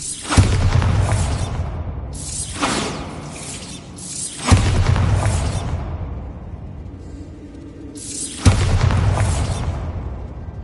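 Bombarda spell blasts in Hogwarts Legacy: four heavy booming explosions spaced a few seconds apart, each striking hard then fading into a long rumbling tail, loud and close with no voices.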